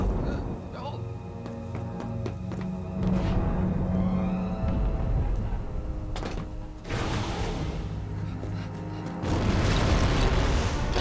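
Charges explode in the video game Lego Star Wars: The Complete Saga: two heavy booming blasts land partway through and near the end, over a dense, loud music and effects bed.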